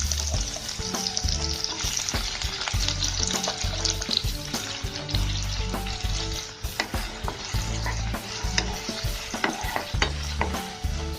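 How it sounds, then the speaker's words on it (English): Onions and cumin seeds fry in a hot pan over a medium-high flame, giving a loud, continuous close sizzle broken by stirring clatter, with no talking. "Once the cumin seeds flutter, you add the onions."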